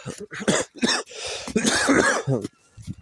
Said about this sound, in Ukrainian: От це ще й кашель.